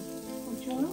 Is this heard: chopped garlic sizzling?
yes